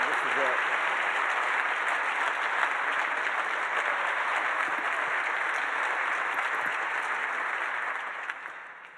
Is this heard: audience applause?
yes